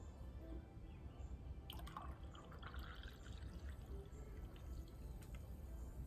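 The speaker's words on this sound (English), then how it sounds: "Let's go and pour it in." Monster energy drink pours into a glass in a steady, faint liquid stream, with gurgling and splashing close by over a low background hum and no talking.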